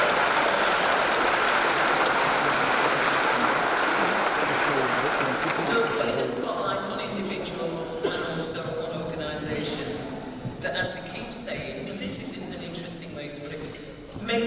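A thick burst of audience applause at the Voluntary Action Sheffield Community Awards evening rolls on for several seconds, then thins out and gives way to a speaker talking over the hall.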